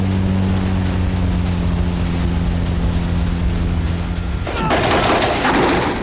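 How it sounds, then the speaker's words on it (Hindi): A steady engine drone over the sea, then a sudden burst of rapid gunfire from a helicopter into the water with splashing, loud and harsh, continuing to the end. "अचानक आसमान से समुद्र में गोलियां चलने लगी।"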